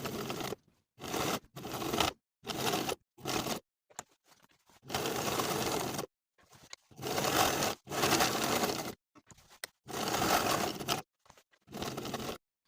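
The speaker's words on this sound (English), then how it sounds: "I'm going to edge stitch close to that folded edge from one side to the other." A sewing machine edge stitches a folded sleeve cuff in a series of loud, close bursts of running stitching separated by short pauses, with no talk over it.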